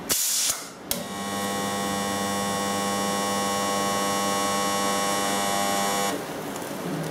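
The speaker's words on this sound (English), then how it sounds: "You will see the welding taking place and the current cutoff will be automatic." A pneumatically operated rod butt welding machine welding a rod, giving a short burst of noise and then a steady loud electrical hum and buzz for about five seconds that cuts off automatically, leaving a quieter hum.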